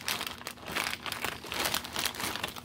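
Plastic or paper crinkles close up in continuous, irregular bursts of crackling that rise and fall for a few seconds, with no voices.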